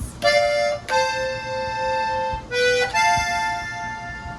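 Accordion notes sustain in a slow button-played melody from the song "Hay Unos Ojos", bellows swelling between phrases, close and clear with no voices.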